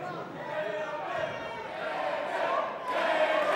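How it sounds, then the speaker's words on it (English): A large arena crowd at an MMA fight chants the fighter David's name, a loud, continuous massed roar of voices that swells slightly toward the end. "Crowd chanting David."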